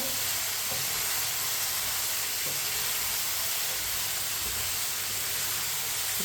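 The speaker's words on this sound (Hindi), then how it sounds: "2 मिनट के लिए दोबारा पका लेंगे चम्मच चलाते हुए।" Tomatoes cook in a pot over medium heat while a spoon stirs them, giving a steady, even sizzling hiss throughout with faint soft scrapes underneath.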